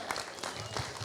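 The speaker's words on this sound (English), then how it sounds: "Let's give them a round of applause, yes?" Guests applaud at a wedding reception held at a club in Point Loma, a brief burst of clapping from a nearby crowd, fairly quiet and mixed with a little background voice.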